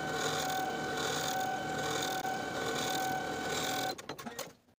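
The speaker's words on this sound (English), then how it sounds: "take your remaining neckband piece to the sewing machine and sew a line of stitching through that single layer" A sewing machine stitches a line through a single layer of neckband fabric with a 3/8 inch seam allowance, a steady, close mechanical whir that runs for about four seconds, then stops, followed by a few soft clicks.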